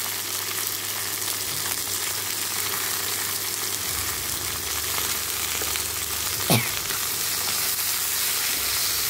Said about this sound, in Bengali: এবারে আমি ভালো করে এটাকে একটু ভেজে নেব।